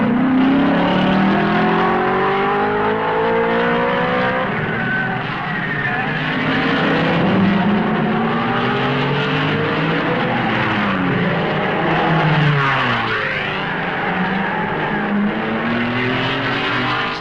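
Several 1955 Formula One race cars braking hard into the La Source hairpin at the Belgian Grand Prix, engines dropping in pitch and revving back up as they pass, loud and continuous with overlapping sweeping engine notes.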